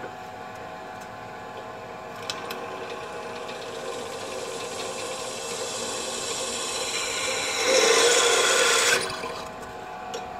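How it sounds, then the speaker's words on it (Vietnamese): A Japanese domestic bench drill press runs with a smooth, steady motor hum, then bites into a test hole, the whine rising into a louder grinding burst for about a second before easing back to the idle drone. "Rồi, khoan thử lỗ coi."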